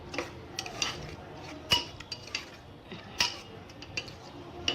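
Spinach and a tomato-onion mixture are stirred in a cooker, with irregular metallic clinks and scrapes of a spoon against the pot, moderately close and without talk.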